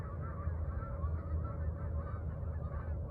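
Geese honk close by in a dense, continuous chorus of overlapping calls, low and steady throughout, with no one speaking.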